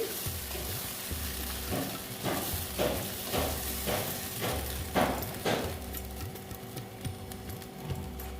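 Paneer butter masala is stirred slowly in a pan over a low gas flame, a soft bubbling sizzle under a series of scraping spoon strokes at a steady, unhurried rhythm, close and fairly quiet.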